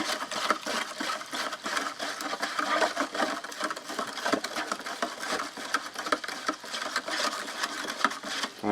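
Granular raspberry drink powder from a Polish ration menu is stirred into about 250 ml of cold water, giving a fast continuous gritty scraping and swishing close up. The sound is fairly faint, and no one speaks.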